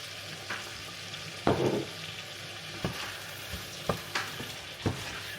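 Fried rice with extra green peas sizzles steadily in a hot pan, broken by several sharp spatula scrapes and knocks as it is stirred, close and moderately loud with no talking.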